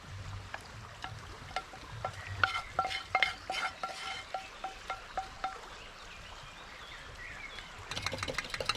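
Bacon frying in a pan sizzles steadily, with a run of sharp spatters and pops through the middle and low stirring or handling noises at the start and end. It is close and moderately quiet, with no talking.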